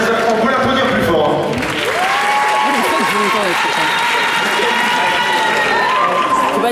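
Audience at a mentalist theatre show applauding a volunteer, a dense steady wash of clapping with some cheering, while someone speaks over it through a microphone.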